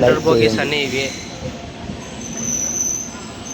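MGR Chennai superfast express with LHB coaches running between Tadipatri and Renigunta: a loud wheel squeal and rail rumble up close, easing into a steady rolling hum, with a brief voice at the start.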